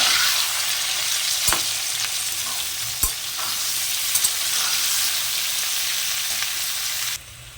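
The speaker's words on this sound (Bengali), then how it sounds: "এর মধ্যে আমি অল্প করে পেঁয়াজ কুচো দিয়ে দিলাম।" Chopped onions frying in a pan with potatoes give a steady, close sizzle, with a few sharp scrapes of stirring before the sizzle cuts off near the end; no one speaks.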